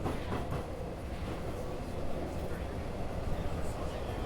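Metro train running on rails, a continuous low rumbling roar with a rattling, clattering texture, steady and fairly close throughout.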